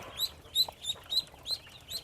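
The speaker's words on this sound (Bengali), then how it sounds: "এক সপ্তাহ কিংবা দশ দিনের হাঁসের বাচ্চা" Week-old to ten-day-old ducklings peep in quick, high, evenly spaced bursts, about six near calls over a soft background.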